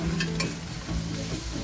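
Shrimp being stirred in a hot pan for sinigang, with a steady close sizzle broken by repeated rhythmic scrapes and clanks of the utensil against the pan, and no one speaking.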